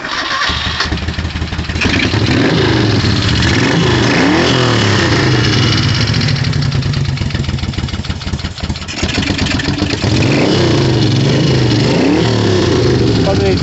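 A 1978 Moto Guzzi 1000 SP motorcycle cranks briefly and catches, then runs loud and close with a rough, throbbing idle and a few blips of the throttle.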